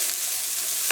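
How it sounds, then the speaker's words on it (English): Garlic sautéing with pepper and onion in a pan gives an even, continuous close-up sizzle for about a second, ending in a small clink or scrape. "I added my garlic, and I'm just going to cook it for another minute like I mentioned."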